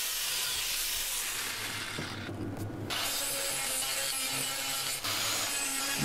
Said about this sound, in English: See where it's sparking, it's where I've already put some weld.